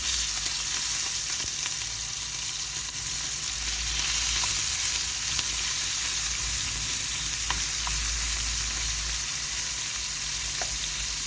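Minced meat sizzles loudly in a pan beside eggplant, a dense continuous frying hiss with occasional small pops and stirring scrapes. No one speaks.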